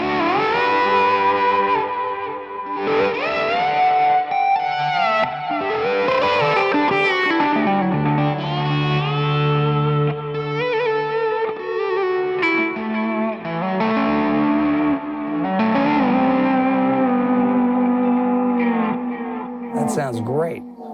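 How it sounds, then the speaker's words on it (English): Electric guitar played on the bridge pickup, with pedal-steel-style string bends that glide up and sustain, sounding full and clear through effects with some echo and a steady, close, continuous line. "these pedal steel bends really sound a lot fuller and clearer if you're on the bridge pickup"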